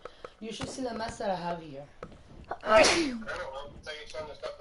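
A single sharp, close human sneeze bursts out midway through, between stretches of a person talking before and after it.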